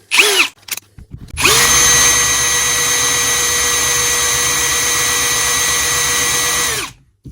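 A Parkside cordless drill driver bores into very hard wood: a short burst, then a loud, steady high whine held for about five seconds before it winds down and stops.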